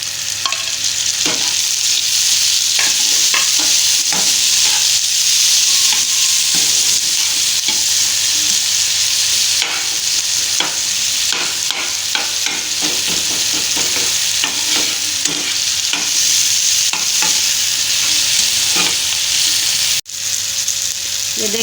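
Fried okra (bhindi) stirred into masala in a pan, producing a continuous loud sizzle with frequent spatula scrapes and clacks across the whole stretch.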